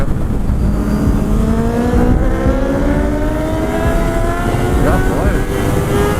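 An Aprilia RSV4 motorcycle engine revs hard and loud, its pitch climbing steadily through the gears in a continuous roaring sweep, with a brief spoken remark over it.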